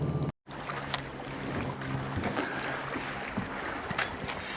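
A fishing boat on Bartlett Lake moves along a rocky shore, giving a steady low rumble and watery wash with wind noise, continuous and moderately quiet apart from a brief dropout near the start.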